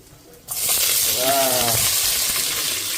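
Onions dropped into hot oil in a home kitchen break into a loud, steady frying sizzle that starts suddenly and holds at full strength to the end.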